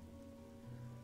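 Rain ambience in the video game Darkside Detective, a quiet, steady patter with a low hum underneath, brief and alone.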